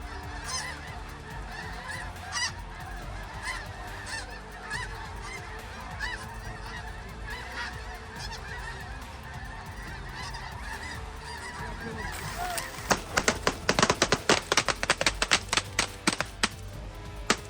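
A flock of snow geese honks steadily in the open during a Missouri goose hunt. Dense overlapping calls carry throughout, and sharp taps or shots crack out near the end.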